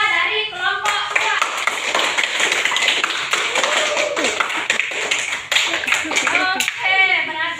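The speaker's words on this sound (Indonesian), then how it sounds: "Kasih aplaus untuk Nisa dari kelompok 2" Classroom applause for a high-school student, a burst of many hands clapping steadily throughout, with children's voices and chatter mixed in underneath.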